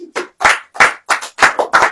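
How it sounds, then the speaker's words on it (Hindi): A church congregation claps hands in six distinct rhythmic bursts, loud and close, with short pauses between each group of claps. "अब ताली बजाएं"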